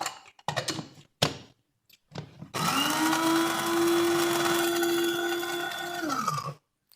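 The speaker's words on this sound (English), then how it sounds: "This one is dry crayfish. See, crayfish. We grind it. Put it inside a blender." A blender grinds dry crayfish for Nigerian edikaikong soup: a few clatters and bumps, then a loud, steady, high-pitched whirring motor for about four seconds that winds down and stops.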